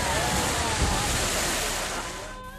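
Gandak river water rushing and churning against an eroding bank near a village, a loud continuous watery roar with wind buffeting, steady throughout before cutting off abruptly at the end.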